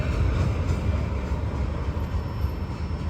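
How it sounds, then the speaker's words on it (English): A Norfolk Southern freight train passing close by, a heavy continuous low rumble and rolling rail roar with a faint high whine, steady and loud throughout. "Got to see a nice train meet between 241 and M54"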